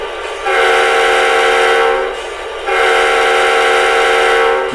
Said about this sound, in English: you see this icon next to the horn button, and that's so we can test it